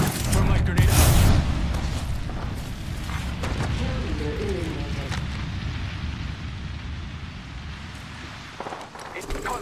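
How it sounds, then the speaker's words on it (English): A thermite grenade goes off in Apex Legends with a loud close boom, then a long roaring burn that fills several seconds, heard amid game sounds and a brief burst of voice. "Thermite grenade out!"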